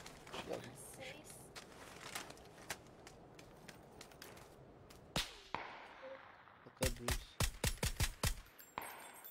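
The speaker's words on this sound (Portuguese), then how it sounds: "Ah, tá tiro agora!" Video game gunfire crackles in sharp bursts, sparse at first and then a rapid cluster near the end, with quiet voices in the background.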